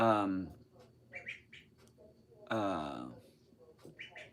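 A baby duck gives several short, bright quacking peeps spaced between louder passages where a person talks nearby indoors.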